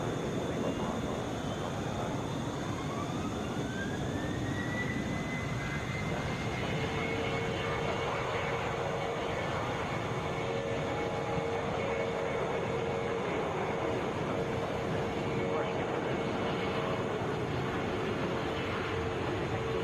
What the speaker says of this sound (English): That was a Boeing 737.